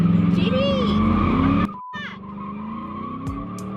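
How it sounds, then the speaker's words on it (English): Ford Mustang GT doing a burnout, engine roaring loud and close with tires squealing for over a second, then a cut to a quieter idling rumble with a brief squeal. "before you get new tires, you gotta burn the old ones"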